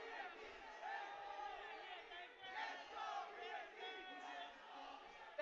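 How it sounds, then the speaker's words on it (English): Crowd at a VALORANT Challengers South esports finale chanting in unison, a steady roar of many voices rising and swelling in waves throughout, loud and close, with no distinct talk on top. "Let's go VLT is what the crowd is saying at this point."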